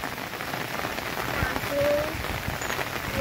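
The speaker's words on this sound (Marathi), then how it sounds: "खूप पाऊस आहे, आपल्याला भिजायचं नाही" Heavy monsoon rain in the Konkan countryside drums steadily and loudly on surfaces nearby, a dense continuous patter with scattered heavier drops.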